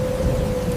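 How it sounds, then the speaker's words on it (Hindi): Heavy rain and thunder from a stormy night with strong wind and lightning: a steady, loud rain-like roar runs throughout, with a constant hum tone over it and no voices. "बाहर तेज आंधी और बिजली कौंध रही थी।"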